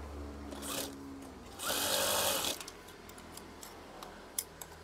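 A sewing machine stitching fabric tie strings for curtains gives one short whirring run of about a second, followed by scattered light mechanical ticks against a low background hum.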